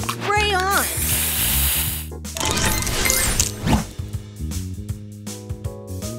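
A spray booster effect fires in the Match Masters puzzle game as a hissing, sizzling burst over bright game music. A synthetic announcer voice speaks around it.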